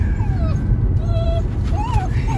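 A puppy newly separated from its mother whimpers on a farm, giving several thin, high, wavering whines close by over a constant low rumble like a running vehicle.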